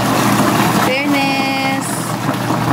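Mini washing machine running, a loud steady motor drone that continues without a break, with a voice talking over it partway through.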